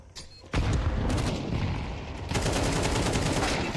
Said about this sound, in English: AK spamming away.